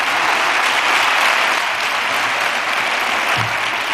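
Lecture audience clapping steadily, a thick, loud patter of many hands continuing without pause, with a brief low thump near the end.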